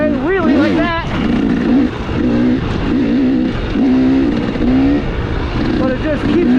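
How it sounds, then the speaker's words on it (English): A dirt motorcycle on a trail at Dry Creek, Colorado, accelerates into a wheelie, its engine loud and close, revving up and down in repeated surging bursts. "And when you need it, you can still accelerate, wheelie like that."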